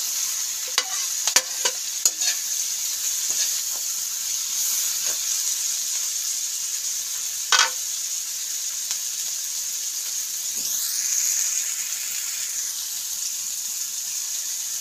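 Bitter gourd frying with garlic and onion gives a steady, bright hissing sizzle, close and continuous. A few sharp clicks of stirring come early and one louder scrape comes midway, with no voices.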